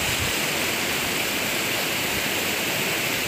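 Pitch-black Semeru lahar rain floodwater rushes beneath the Gladak Perak bridge, a loud, steady, broadband roar of churning water that never lets up, with no voices.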